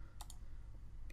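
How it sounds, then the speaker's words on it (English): Mouse clicks at a computer while working in EmbroideryStudio e4.2 embroidery software: two quick close clicks, then a single faint click a moment later, over a steady low room hum. "I'm going to click on the letter A here"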